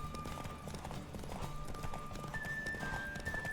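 A horse gallops in a race in The Witcher 3, its hoofbeats pounding in a fast, steady rhythm at moderate volume, with a faint whistling tone running beneath.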